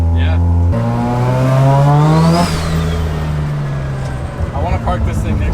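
A rotary-swapped Datsun 1200 engine revs hard while driving, its loud droning note climbing in pitch and then easing off and settling back, close and continuous.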